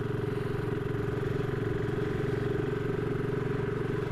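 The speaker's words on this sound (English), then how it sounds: "listen to that engine, sounds absolutely gorgeous" A BSA Gold Star 650 single-cylinder motorcycle engine runs steadily close by, a deep, even thumping idle with a regular pulsing beat and mechanical clatter, no voices over it.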